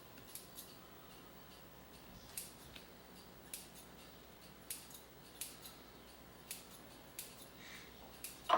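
Scissors snipping Eccles cakes before baking, a series of quiet, crisp clicks spaced at an irregular rhythm, close by in a hushed kitchen with no talking.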